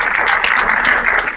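Round of applause at a community board meeting, with the crowd clapping loudly and evenly for a brief stretch and tapering off at the end.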